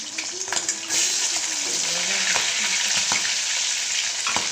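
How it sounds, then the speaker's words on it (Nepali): Fish sizzles steadily as it fries in a pan, a dense broadband crackle with occasional louder pops, while voices talk over it. "हामी त माछा फ्राई गर्दैछौँ"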